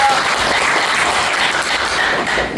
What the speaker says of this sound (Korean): 일단은 박수 한번 주시죠